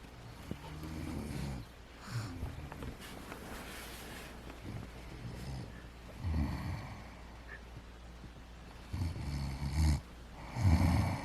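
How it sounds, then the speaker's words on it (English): Breathy snoring from a sleeping woman, recurring in a few low, rough bursts with quiet gaps between them, close to the microphone with some wind-like hiss. "Your mom be snoring hardcore."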